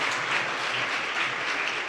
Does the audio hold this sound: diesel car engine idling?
no